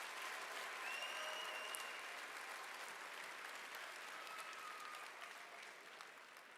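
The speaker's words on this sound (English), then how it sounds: "Let's give a round of applause." A large crowd at the Iowa FFA State Leadership Conference general session applauds steadily in a big hall, a dense wash of clapping that holds for several seconds and slowly eases off, with scattered cheers.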